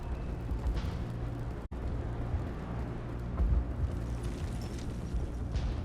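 A Mass Effect battle against the Geth, with a dense rumble of distant gunfire and muffled explosions and a brief drop into silence partway through. No voices.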